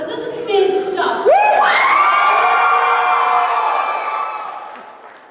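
Anime convention crowd at a Sailor Moon panel screaming and cheering, a dense wall of high-pitched shrieks and whoops that swells quickly, holds loud for several seconds, then tapers off.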